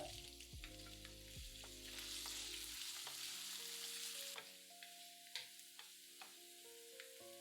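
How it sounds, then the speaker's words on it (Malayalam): Coconut pieces frying in two tablespoons of coconut oil in a pan on a low gas flame for a Kerala-style chicken liver roast, a steady sizzle with occasional stirring clinks and scrapes, close and alone. "2 ടേബിൾ സ്പൂൺ വെളിച്ചെണ്ണ ഒഴിച്ച് കുറച്ച് തേങ്ങാക്കൊത്തിട്ട് മൂപ്പിക്കുക."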